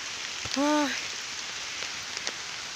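Steady rain falls in a forest in Tak province, Thailand, a constant soft hiss of drops on leaves and ground, with a brief voice-like tone rising over it for a moment.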